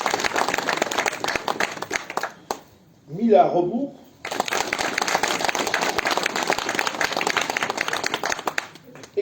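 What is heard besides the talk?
audience applause at mayor's new year address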